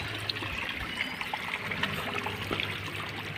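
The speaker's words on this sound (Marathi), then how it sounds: "पाणी बघा कसं येत आहे बांधाच्या आतमधून येतं आहे पाणी" Water trickles and gurgles steadily out through an embankment outdoors, a continuous close flowing sound with no voices.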